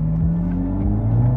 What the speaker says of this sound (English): So as I give it gas